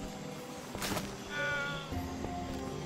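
A cat meows in the video game Minecraft Dungeons, a single short, fairly faint call set against a steady game background of music and ambience, with no talk.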